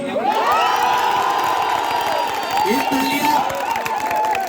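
A large crowd at a student election campaign rally at IIT (ISM) Dhanbad cheers and shouts loudly throughout, with whoops and high children's voices rising over a continuous roar; clapping is faint within the noise.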